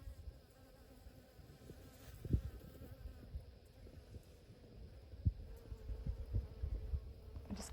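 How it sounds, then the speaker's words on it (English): Bees buzz steadily around newly planted poppies and stock in a southern Arizona garden in December. A soft, continuous hum carries occasional louder passes close by, with no talking. "The bees are really enjoying"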